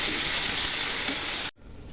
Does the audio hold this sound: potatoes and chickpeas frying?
yes